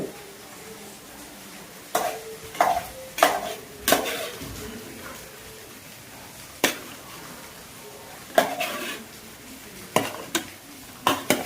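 Biryani is stirred and mixed in a pot with scattered scrapes and metal clinks against a faint background hiss, close by with quiet gaps between strokes.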